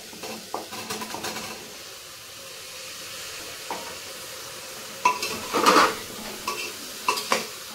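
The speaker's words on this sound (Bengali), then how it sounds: "এগুলো সব দিয়ে দেবো আমি একসঙ্গে। আবার কষাবো।" A spoon scrapes and clinks against a pan as bottle gourd, fried potato and green and red chilies are stirred together, with a soft sizzle underneath and sharper metallic knocks toward the end.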